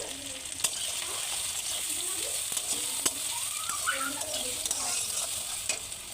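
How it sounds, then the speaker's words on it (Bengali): Steady sizzle of chili, onion and garlic frying in hot oil, with sharp pops and crackles and the scrape of stirring over the constant hiss. "তেল গরম দিছি, এতে এবার এই যে ঝাল, পেঁয়াজ আর রসুন এগুলো দিয়ে দেবো।"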